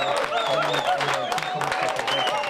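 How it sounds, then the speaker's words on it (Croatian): Applause and cheering fill an HDZ county party office as supporters celebrate presidential election results; dense clapping runs throughout, mixed with voices from the crowd. "U županijskom HDZ-u rezultati su dočekani s oduševljenjem i pljeskom."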